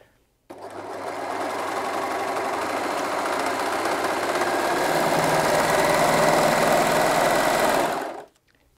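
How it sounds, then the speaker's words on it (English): A Brother 2104D overlocker runs a 4-thread overlocking stitch under foot control, a loud, steady mechanical whir and rapid clatter that starts abruptly, holds for about eight seconds with a slight rise in speed, then stops. "I'm just going to use the foot control to go ahead and sew that lovely neat 4-thread"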